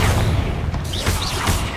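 Explosive Confringo spell blasts in Hogwarts Legacy, a loud booming impact followed by crackling bursts and whooshing magical effects over about two seconds, with no voices.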